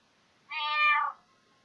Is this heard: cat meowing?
yes